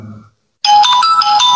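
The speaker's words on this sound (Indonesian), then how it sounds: "Jangan telepon ke anak Banta." After a short fragment of sound and a moment of silence, a phone ringtone for an incoming call starts loud and close, with a bright, repeating melodic pattern.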